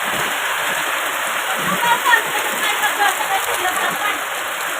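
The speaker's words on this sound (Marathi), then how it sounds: "आमच्याकडे लय डेंजर पाऊस चालू आहे" Heavy rain pours down outside a house in a wet spell that soaks stored wheat, a dense, steady hiss of drops hitting surfaces, loud and constant throughout with no voices.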